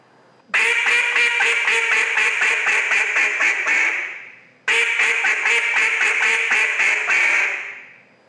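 A BSOD effect pedal gives a nasal, quacking keyhole tone in two long sustained bursts, each swelling in loudly and fading at its tail, with a short gap between them and no talking.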